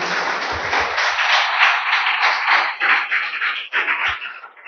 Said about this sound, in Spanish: Dense un fuerte aplauso.